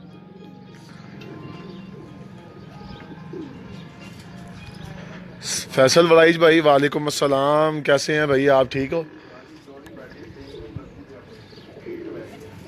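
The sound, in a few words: pigeons cooing on a rooftop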